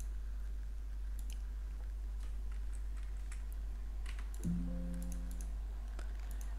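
Light computer keyboard typing while renaming a folder produces soft, scattered key taps over a steady low electrical hum, with a brief tonal beep near the end.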